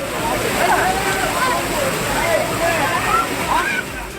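Manimuthar waterfall pours in a steady, loud rush of splashing water, with bathers in the water and no clear talk heard over the roar.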